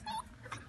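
Small puppies whimpering in a single soft, high, brief whine, faint and close, with a second little yip after it.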